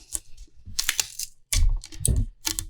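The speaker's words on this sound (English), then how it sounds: "I'm just basically putting the tape on there, get a bite" Masking tape being pulled and wrapped onto a fishing rod blank during custom rod building, heard as close, sharp crinkling and tearing bursts in irregular clusters with brief quiet gaps.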